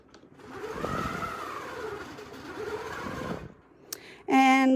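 A longarm quilting machine runs along a Westalee guide, stitching a straight line with a steady motor hum for about three seconds, followed by a short click and a brief, loud tonal beep.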